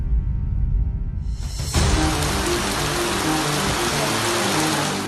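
Heavy rain pours down during floods in Malawi, a loud dense roar that swells suddenly after a quieter rumbling start and then holds steady.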